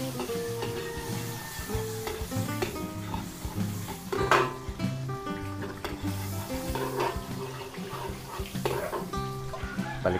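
Garlic sizzles softly in margarine and oil in a pan while being stirred, a low steady crackle with utensil scrapes and a clatter, under faint background music.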